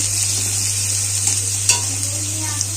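Chopped onion and green chilli fry in hot oil with cumin seeds, a steady close sizzle with an occasional sharp pop and stir.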